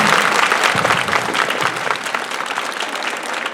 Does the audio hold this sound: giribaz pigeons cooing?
no